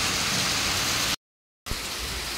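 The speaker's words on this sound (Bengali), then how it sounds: "বৃষ্টি মেঘ ডাকিয়ে মানে ঝাপসানো বৃষ্টি যাকে বলে" Drizzling rain falls outdoors as a dense, even hiss that cuts out completely for a moment before resuming just as steadily.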